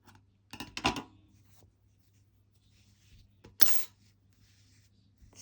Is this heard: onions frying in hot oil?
no